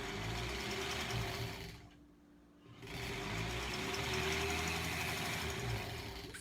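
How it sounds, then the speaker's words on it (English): Sewing machine stitching a quilt strip for a granny-squares quilt block, a fast, steady mechanical whir that stops briefly and then resumes, close and continuous with no talking. "to get this off the machine, I need to sew another strip"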